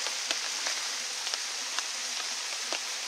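Steady rain falls on a bushcraft bivouac in France beside a relit campfire. It makes a dense, even hiss with scattered louder drops tapping close by, and no voices are heard.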